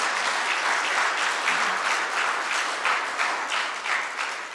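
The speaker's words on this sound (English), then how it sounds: "it feels good to have applause come back." A church congregation applauding continuously, dense steady clapping that fills the whole stretch and eases slightly at the end.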